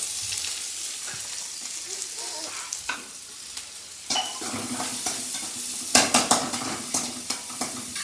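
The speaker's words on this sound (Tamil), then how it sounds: "இப்போ வந்து எண்ணெய் ஊற்றியாச்சு, வெங்காயம் போட்டுக்கலாம்." Onions sizzling and frying in hot oil in a pan for an egg stir-fry, with a steady crackling hiss and occasional stirring scrapes and clinks growing louder toward the end, no voices.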